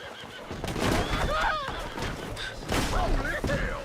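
A horse whinnies a few times in Red Dead Redemption 2 amid loud, busy game noise with bangs and scattered voices, fairly close.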